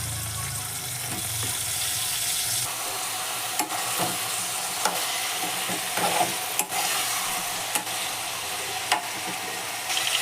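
Eggplant pieces fry with onion and turmeric for a vegetable curry, a steady loud sizzle with scattered scrapes and clicks of stirring throughout, no voices.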